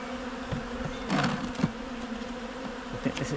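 A close, continuous hum of honey bees comes from inside a weak colony's hive being inspected, with small bumps and knocks over the steady buzz.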